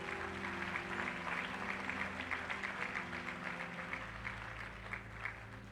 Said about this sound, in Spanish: Dele un aplauso, aplauso, aplauso.